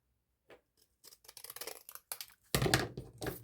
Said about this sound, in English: let me just get the scissors and cut the tag shape.